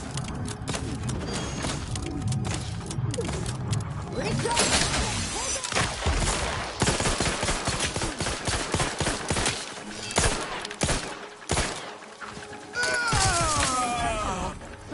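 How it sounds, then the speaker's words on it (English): Laser torpedo weapon firing in The Outer Worlds 2 video game, a dense run of sharp energetic blasts and bursts in rapid succession, loud and continuous, with some game noise mixed in. "Yay, laser torpedo power!"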